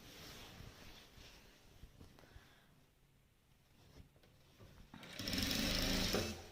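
A sewing machine stitches felt in a quiet room, with a soft intermittent whir that pauses, then a louder fast continuous run near the end.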